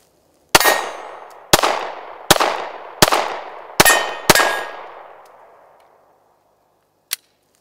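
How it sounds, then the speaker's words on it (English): Six sharp Glock 43 pistol shots fired at a steady pace, each a loud close crack with a ringing decay, followed by one short faint click after a pause. "There you have it, first shots out of the 43."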